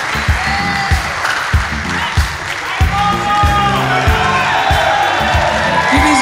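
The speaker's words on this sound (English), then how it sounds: "Give these guys a hand." A podcast crowd applauds and cheers after a live performance, scattered claps and whoops over a throbbing music beat that stays loud throughout.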